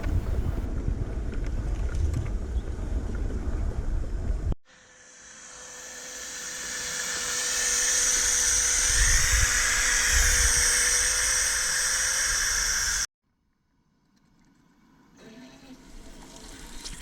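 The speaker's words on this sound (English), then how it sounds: "that nice whistling, sort of sucking sound from the injectors" Steam locomotive injectors on a miniature 7¼-inch gauge railway give a steady, loud whistling hiss with a sucking edge, rising abruptly, holding for several seconds, then cutting off to near silence.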